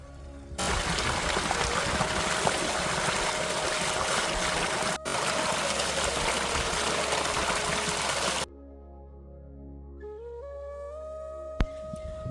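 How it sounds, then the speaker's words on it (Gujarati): Carrots are washed under steadily running water in a village kitchen before being made into halwa, a loud continuous rush that cuts off abruptly, followed by music. "તો મિત્રો સૌથી પહેલા આપણે આ ગાજરને સારા પાણીથી ધોઈ લઈશું"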